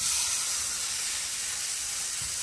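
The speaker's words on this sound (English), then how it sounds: "we have greased the bottom of our skillet, and now we're going to add our pot roast to it." Angus sirloin pot roast searing in a greased skillet, giving a steady, loud broadband hiss and sizzle that holds throughout without talk.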